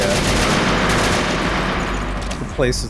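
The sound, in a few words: AK rifle gunfire in a video game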